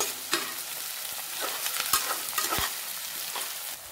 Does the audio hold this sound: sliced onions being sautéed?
yes